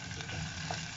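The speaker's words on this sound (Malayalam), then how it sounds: "ഇനി അതിനകത്തോട്ട് കുറച്ച് പച്ചമുളക് ഇട്ട് കൊടുക്കുവാണ്." Green chillies frying in a pan for egg roast, a brief, quiet, close sizzle with light crackle as they hit the hot oil.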